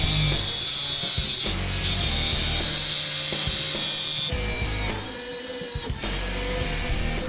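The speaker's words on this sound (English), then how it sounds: "Next, I try a different blade on angle grinder." An angle grinder with a different blade cuts through the sheet-metal roof of a Chevy Astro van, a loud, continuous harsh whine with short breaks and shifts in pitch, close by with no talk over it.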